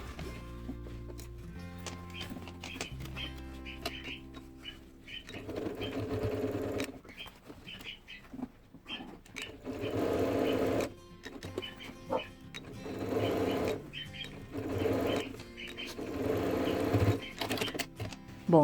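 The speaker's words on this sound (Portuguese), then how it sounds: "agora eu vou fechar esta abertura aqui da lateral inferior com ponto zigue-zague" A sewing machine runs a zigzag stitch to close a side opening on an elastic pencil case, its motor whirring in repeated bursts of several seconds separated by short pauses, loud and close.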